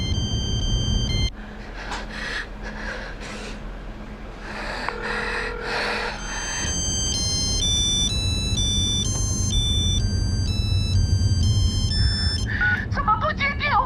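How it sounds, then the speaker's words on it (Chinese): An unanswered telephone plays a bright, repeating electronic ringtone melody that starts partway through and loops steadily and clearly to the end, following earlier muffled breathing and low sounds. "怎么不接电话呀你？"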